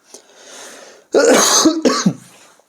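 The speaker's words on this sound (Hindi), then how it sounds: "ये खांसने की आवाज़ आ सकती है बीच बीच में" A sick person coughs and clears their throat close up, a short raspy hack followed by a couple of harsher bursts.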